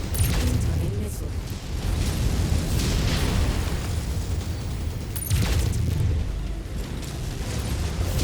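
Heavy rumbling blasts of missiles exploding in MechWarrior 5, with two sharp bursts separated by a few seconds over a continuous roar of battle noise.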